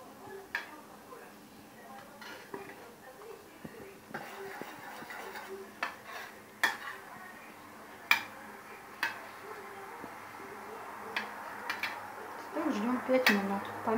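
Red currant jam simmering in a pot while a spoon stirs it, with soft scattered clinks and scrapes against the pot over a quiet bubbling background, close up with some faint talk.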